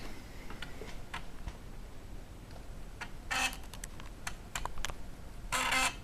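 A modified PC floppy drive reads a double-density disk on Amiga hardware, making faint irregular ticks and clicks followed by louder buzzing seek bursts, close and without talk.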